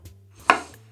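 A single knife chop through banana on a board, cutting coarse pieces: one crisp close thud-click standing alone in near silence.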